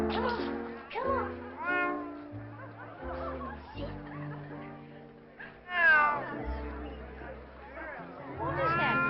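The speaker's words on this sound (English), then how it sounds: "What is that cat doing in here, darling?" A cat meows repeatedly indoors, several rising and falling cries over a few seconds amid people talking, laughing and a light background babble.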